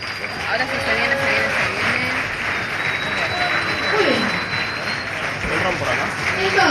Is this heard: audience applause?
yes